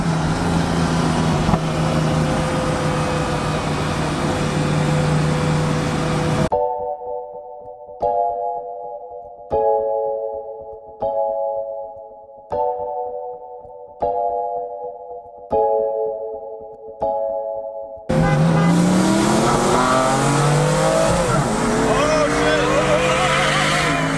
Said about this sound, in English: We got a race. That's a E92 M3.